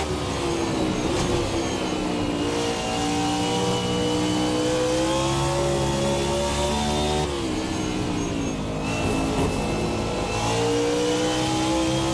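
A race car engine in the Race Sim Studio Hyperion 2020 racing simulator revs continuously and loudly, pitch climbing through the gears with a brief shift dip midway, no voices.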